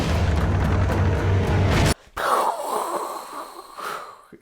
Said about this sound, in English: The first fireball explosion of the day.